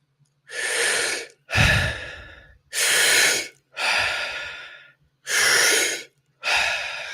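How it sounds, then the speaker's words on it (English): Deep rhythmic breathing during a guided breathwork session: six strong, close breaths alternating inhale and exhale, each about a second long with short pauses, heard alone without talk. "Keep breathing. About 10 more breaths here."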